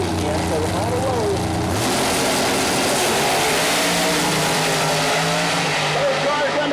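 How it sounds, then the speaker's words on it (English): Nitrous Pro Mod door-slammer drag cars at Mooresville Dragway roar down the strip, a loud sustained engine blare that rises in pitch as they launch and pull away, with an announcer talking over it. "Those cars underway on a good straight pass"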